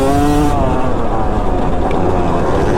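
A Yamaha YZ250 two-stroke dirt bike engine revs loud and close, its pitch rising then holding in a continuous high-revving drone, with faint speech mixed in.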